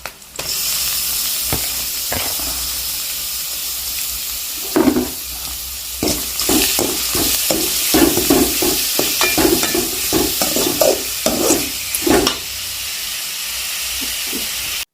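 Loud sizzling and hissing of onions and beetroot frying in a pan, with repeated scraping knocks of a spoon stirring through them.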